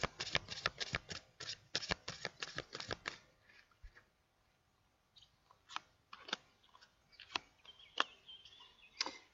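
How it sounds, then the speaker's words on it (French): Tarot cards being shuffled in a quiet room, a rapid run of crisp riffling snaps followed by a pause, then scattered sharper card flicks and taps at irregular intervals, close and fairly soft. "Il n'y a que le bruit de mes cartes."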